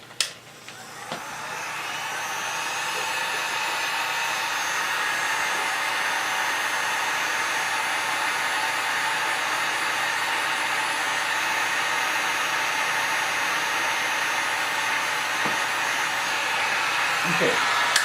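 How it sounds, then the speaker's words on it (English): A heat gun shrinks heat-shrink tubing on a wire while building a CR-10 dual extruder. After a click, a loud steady blowing roar holds for the rest of the clip. "Grab my heat gun and shrink it back down again."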